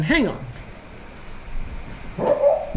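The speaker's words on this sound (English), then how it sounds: "you probably can hear the dog in the background barking" A dog barks twice, once at the start and again near the end, fairly close by, while someone speaks briefly.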